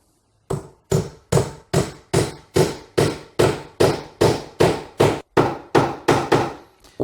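Steady series of sharp hammer blows driving a wooden dowel into a hole in a wooden stair, about a dozen strikes at an even rhythm, close and loud with no talking.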